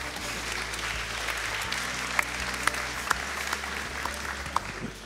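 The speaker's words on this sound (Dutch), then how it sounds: "Applaus." An audience applauds during a talk on Majorana particles and quantum mechanics, giving steady, moderately loud clapping with a few crisp, distinct claps near the front over a low hum from the room.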